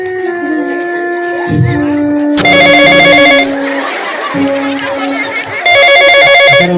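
A phone ringtone repeats in bursts of a short electronic melody, loud and close, with voices and background chatter between the rings.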